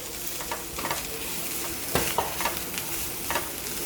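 Onions with ginger garlic paste fry in a pan for a Kerala chicken dish, a steady sizzle broken by a few scraping stirs of a utensil, close and moderately loud with no voices.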